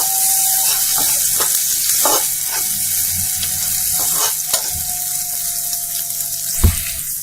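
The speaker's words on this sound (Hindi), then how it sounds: "इन दोनों चीजों को डाल के प्याज को अच्छे से भून लेंगे।" Onion frying in a pan with green chilli and finely chopped ginger, a steady hissing sizzle broken by a few spatula scrapes and knocks, including a louder thump near the end.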